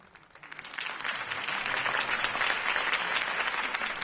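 Crowd applause swells up and holds steady for a politician's campaign speech in the Batman Telltale video game, a dense, continuous patter of many hands.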